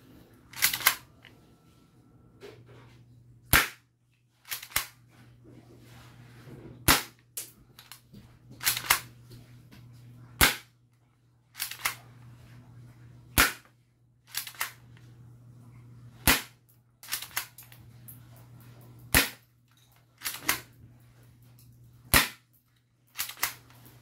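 A K35DA spring-type 1911 airsoft pistol is fired repeatedly at thick styrofoam, giving about a dozen sharp, close snapping shots spaced a couple of seconds apart over a low steady hum.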